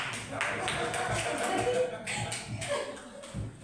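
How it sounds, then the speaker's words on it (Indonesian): Audience clapping at a school seminar on positive culture, scattered and uneven, rising and thinning in waves while people talk and chuckle through it. "Tepuk tangan buat itu"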